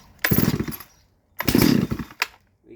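A Neo-tec NS872 chainsaw revs in two loud, close bursts, each about a second long with a brief drop between them, then sputters once at the end.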